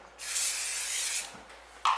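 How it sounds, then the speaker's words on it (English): Short hissing burst of cooking oil spray onto the top plate of a heated Anko pie maker, close and steady for about a second, followed by a quieter pause and a brief second spritz. "I'm just going to do a little spray on the top."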